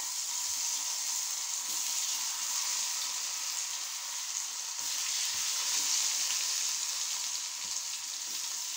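Yam pieces sizzle and crackle steadily in hot frying oil as a Crispy Jaam Jaam yam fry cooks, a continuous close hiss with no voices.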